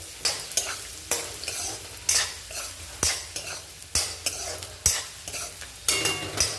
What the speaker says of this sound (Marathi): फरस्पी म्हणजे बीन्स दोन दोन भाज्या मी फ्राय करून घेते